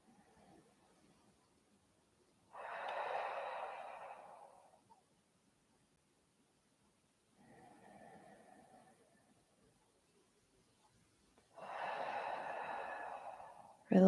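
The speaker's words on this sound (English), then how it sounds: "let's just bring the hands down by your sides and take a few breaths here" Person taking slow deep breaths during a calm energy exercise, three soft airy inhale and exhale sounds with quiet gaps between them, close and faint.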